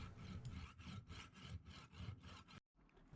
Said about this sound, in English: Carefully saw the nut.